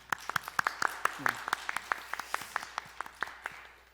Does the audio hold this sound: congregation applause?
yes